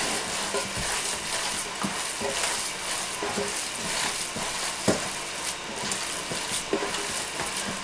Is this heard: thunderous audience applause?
no